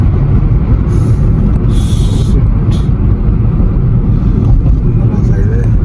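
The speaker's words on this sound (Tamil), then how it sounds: "டிராஃபிக்." Road traffic in Colombo makes a loud, continuous, close rumble of engines and tyres, a dense roar that never lets up.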